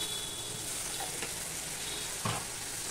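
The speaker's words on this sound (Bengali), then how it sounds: "এবার মশলাটা কষানোর জন্য আমি অল্প একটুখানি জল দিয়ে দেবো।" Spices for a vegetarian papaya curry sizzling in a pan as a little water is added, a faint continuous fry hiss with a couple of brief louder spatters.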